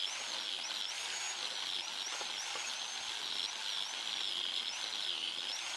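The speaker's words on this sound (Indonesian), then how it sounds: "Dan kemudian dilanjutkan lagi menggunakan amplas merah gerinda." An angle grinder fitted with a red sanding disc smooths the surfaces of metal tools during a restoration, giving a continuous high whine with a wavering pitch and steady loudness throughout, with no voices.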